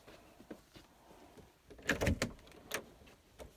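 A small closet door in a house opens with a short burst of close knocks and scrapes in the middle, preceded and followed by quieter handling sounds in an otherwise hushed room.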